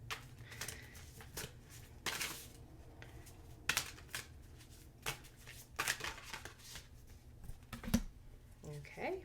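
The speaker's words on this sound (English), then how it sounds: "I'm going to pull a couple cards and then I'll do the full reading." Oracle cards are shuffled and pulled, making repeated riffling flutters and soft card snaps at close range over a low background hum, with a voice speaking in between.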